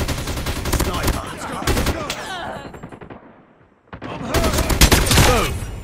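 Rapid bursts of automatic gunfire in the Call of Duty Mobile video game, loud and repeated, with a brief lull before another heavy volley resumes.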